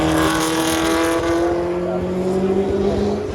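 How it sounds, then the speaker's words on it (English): McLaren Formula One race cars roar past at close range, a loud engine whine that sweeps and drops in pitch as they go by. "Zach decided to come up to the event and bring about 8 McLaren Formula One cars"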